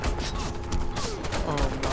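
Gunfire in the video game Warface, a dense, loud burst of rapid shots filling the whole short stretch along with game effects.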